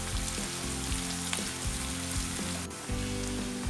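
Two large chopped onions with half a teaspoon of salt frying in hot oil give a loud, steady, dense sizzle throughout, with a low humming tone running underneath.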